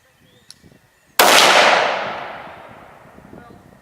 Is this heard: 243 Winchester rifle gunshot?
yes